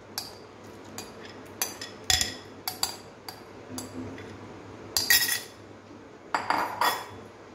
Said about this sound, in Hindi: अब सबसे पहले हम पल्प को ब्लेंडर में डालेंगे।